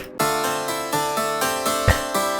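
A dry harpsichord with no effects plays a short run of plucked notes in a steady rhythm, bright and close, with no voices.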